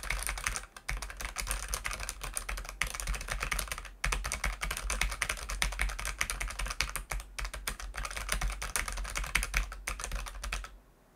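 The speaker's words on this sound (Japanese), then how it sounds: "キーボードの音をね、どれぐらい拾うかチェックの方していきたいと思います" Typing on a computer keyboard recorded through a Fifine AmpliGame A8 budget gaming USB microphone, a steady dense stream of close key clicks with brief pauses and no talking.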